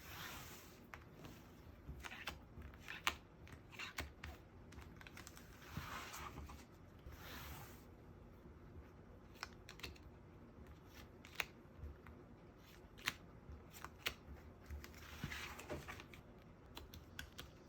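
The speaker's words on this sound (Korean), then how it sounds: "카드 3개 더 뽑아보겠습니다." Tarot cards being shuffled and drawn, heard as soft papery riffles and light taps, with brief louder flicks scattered through a quiet room and no talking.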